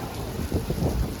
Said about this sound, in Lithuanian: Mes kai važiavom, mes norėjom lietaus,